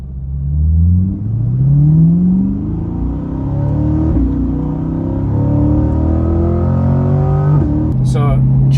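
A C8 Corvette fitted with a Corsa exhaust drops to a lower gear and accelerates, engine note rising through several loud, close sweeps while someone talks over it.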